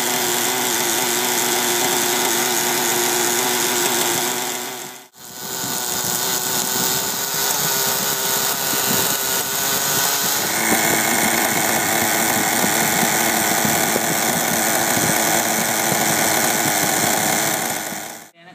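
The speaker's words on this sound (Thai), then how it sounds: "ตอนนี้ลองเทสเครื่องนะครับ" A nitro RC engine tuned on 33% nitro fuel runs loud and steady at close range, a buzzing high-pitched drone that cuts out briefly around five seconds, then restarts and holds continuously.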